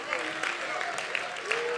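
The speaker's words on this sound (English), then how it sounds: "Why don't you clap your hands before you're seated?" Church congregation clapping hands during an evening worship service, a continuous crowd patter under singing or voices carrying over it.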